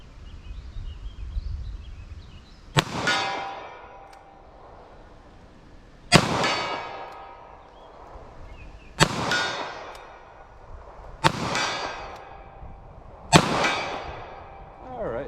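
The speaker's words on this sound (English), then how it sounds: "those things really hit that steel really hard" Five loud, sharp impacts from a .38 Special revolver firing at a steel target, each crack followed by a ringing decay, spaced a few seconds apart with no talk.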